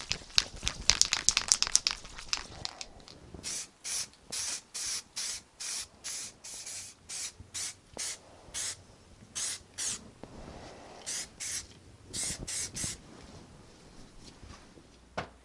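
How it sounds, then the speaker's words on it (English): Spray paint can hissing onto a front brake caliper from a classic Mini, a dense burst of rattling and hiss at first, then many short, evenly repeated close bursts of spraying with pauses between. "I've given this a good shake, so let's get some paint on it"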